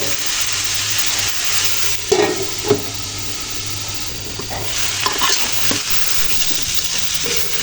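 Broccoli and grass carp curry bubbles and sizzles in a covered pan, a steady close frying hiss with a few soft knocks and clatters of the lid or utensil, no voices.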